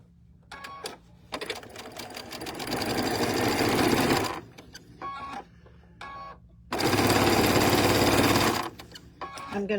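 Rapid mechanical whirring of a sewing machine stitching quilt blocks together comes in two long bursts separated by quiet pauses filled with brief handling clicks, loud and close.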